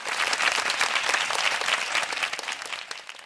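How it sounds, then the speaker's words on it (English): A round of applause for guests on a school podcast, steady close clapping from a small audience that swells early and tapers slightly toward the end. "A round of applause, please."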